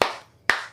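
Two sharp hand claps from an audience greeting a guest, spaced about half a second apart, each fading quickly.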